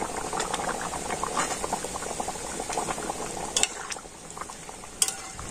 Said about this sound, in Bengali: তো আলুর দমটা আরো আমি 3 মিনিটের মতো ভালো করে ফুটিয়ে নিয়েছি।